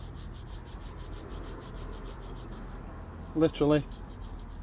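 A brush scrubbing brake dust from behind the spokes of a car wheel, a soft close rhythmic rubbing in regular quick strokes, quiet and steady, with a brief spoken word near the end.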